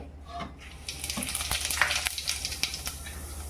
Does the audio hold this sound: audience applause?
no